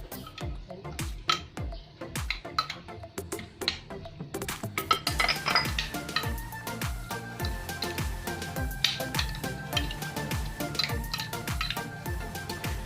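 Marinated pork for Ilocano igado being stirred in a bowl, a steady run of sharp clinks and taps of utensil against the bowl, close and fairly loud, no talking.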